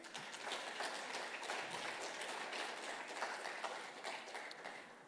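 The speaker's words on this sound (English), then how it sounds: "please request you to give them one last round of applause" An audience at an education discussion event gives a final round of applause, a continuous even wash of many hands clapping, heard at a distance and fairly faint, fading slightly at the end.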